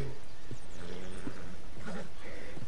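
A horse in Red Dead Redemption 2 lets out a neigh and snorts amid hoof thuds, close and steady over a continuous game background.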